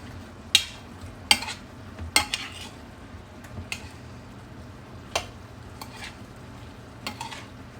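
Corn cooks in butter and sugar in a pan, a soft low sizzle broken by a handful of sharp utensil clicks and scrapes against the pan, close and without talk.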